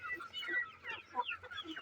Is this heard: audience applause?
no